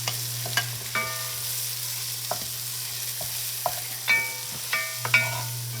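Beef stew being stirred in a pot, irregular sharp scrapes and clinks of a utensil against the pot over a constant low hum, quiet between strokes, no talk.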